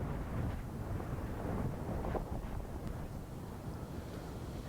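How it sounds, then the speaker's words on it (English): Wind gusting across a golf course at Rowallan Castle during a tournament, a low steady rumble and buffeting against the microphone, moderate and continuous with no talk. "What's your trick in windy conditions, Ross?"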